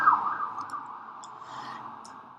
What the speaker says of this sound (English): excuse the siren that's just about to happen while I record this.